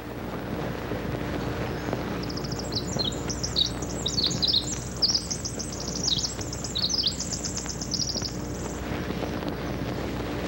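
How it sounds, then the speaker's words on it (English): Bird song played back from an old record, a run of bright high chirps and trills in the middle of the clip over a steady low hum and broadband noise, with no talking. "first we're going to play the recording of the bird sound"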